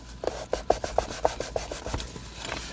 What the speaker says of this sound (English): Scrub hard, wipe it dry right away.